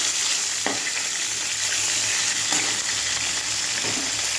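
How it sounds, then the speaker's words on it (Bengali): A fish head fries in hot oil, giving a steady, dense sizzle that runs the whole time with a few faint utensil scrapes, fairly close and with no talking. "মাছের মাথাটা আমার ভাজা হয়ে গেছে।"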